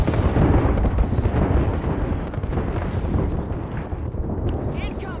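Enemy ultimate detonating in Apex Legends, a dense, continuous roar of explosive blasts and rumble filling the whole stretch at close range, with voices talking over the barrage.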